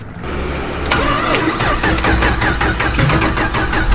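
A cold car engine started with a jump box in freezing weather: starter cranking gives way to an engine catching and running with a steady, loud rumble and rhythmic pulsing, close up with no talking.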